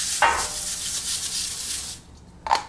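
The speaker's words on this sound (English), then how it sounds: "Take your Pam or cooking spray." Cooking spray such as Pam hisses onto a baking sheet in one steady spray lasting about two seconds, nearby and fairly loud, framed by brief clicks of the can's nozzle at the start and end.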